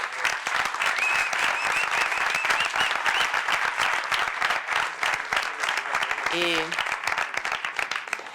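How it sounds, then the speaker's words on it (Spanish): Sustained applause from a conference audience at a security talk on insecure Android development, dense steady clapping filling the room throughout with a brief whistle near the end. "yo sí que les pediría un aplauso muy grande para ellos"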